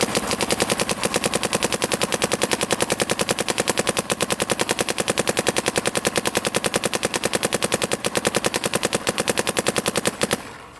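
A Dye paintball gun fires in a fast, steady stream of sharp pops for about ten seconds, loud and close, then stops suddenly.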